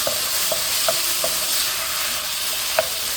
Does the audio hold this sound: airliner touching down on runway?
no